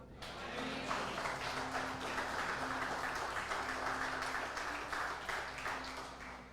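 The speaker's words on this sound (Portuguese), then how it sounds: "Você pode dizer amém aplaudindo a Ele." A church congregation claps together for several seconds, a soft, steady wash of applause heard from some distance, fairly quiet, with a faint sustained tone beneath it.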